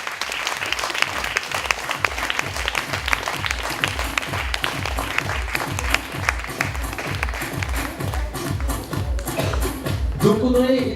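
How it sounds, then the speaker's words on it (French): An audience at an evening gathering of the Jean Claude Biguine salon team claps steadily as Audrey joins, a rhythmic, sustained round of applause at moderate distance that swells slightly near the end, with voices rising under it. "Sous vos applaudissements."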